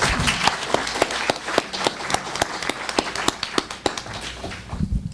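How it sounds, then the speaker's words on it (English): Applause for a discussion panel on New Orleans mayor Dutch Morial, heard as a sparse run of sharp, separate claps over a broad noise wash rather than a dense ovation, steady for about five seconds with no talk. "how about a round of applause for them?"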